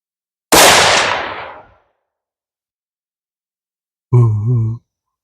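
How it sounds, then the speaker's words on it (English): A single sharp gunshot bursts out and trails off over about a second, followed after a pause by a short, low, voiced grunt or exhale. "The more I shoot it, the more I love it. It's such a sweet shooting gun."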